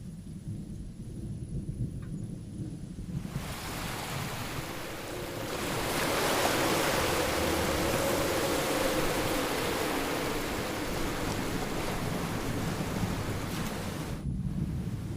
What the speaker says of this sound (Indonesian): Terdengar sayup-sayup suara angin dan ombak.